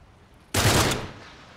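A single loud burst of gunfire from Uncharted 3: Drake's Deception, starting abruptly and tailing off over about half a second, with no talk.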